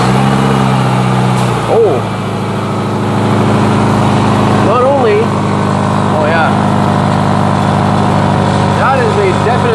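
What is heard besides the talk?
Subaru car engine started and idling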